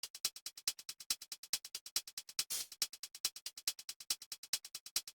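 A trap beat built in FL Studio, its percussion membrane decay set to the lowest setting, plays as fast, tight, clicky hits with a steady rhythm and one brief noisy burst midway, with no talking.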